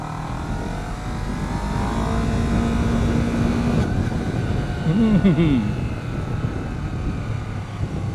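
A 2023 Honda CBR250RR motorcycle rides in second gear at low speed, its engine a steady broad drone with rising revs and wind rush throughout, and a voice talks over it.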